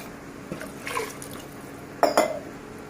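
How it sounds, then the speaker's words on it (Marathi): Water poured into a pot of Agri-style vajadi (goat tripe) curry with mixed spices, giving two short, close splashing bursts of liquid after faint earlier trickles, with no talking. "तर आता त्यात पाणी घालूया आपण"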